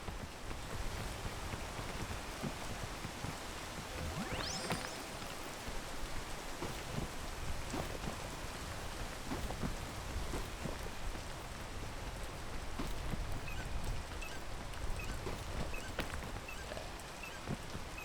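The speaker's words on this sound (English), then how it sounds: "the rain kind of messed me up." Steady rain pours in the video game PEAK, a dense, constant hiss of drops with no pauses or talk.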